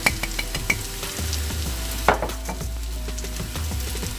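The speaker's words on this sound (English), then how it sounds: "have our onions and green onions sauteing in our butter and olive oil" Onions and green onions sauteing in butter and olive oil, a soft steady sizzle close by with scattered clicks and scrapes of a utensil stirring the pan, no talking.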